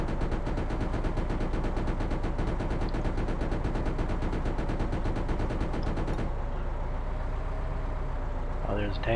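Sustained machine gun fire from the tank game Arms Trade Tycoon Tanks, a dense, steady rattle over an engine drone that stops abruptly, followed by quieter rumbling.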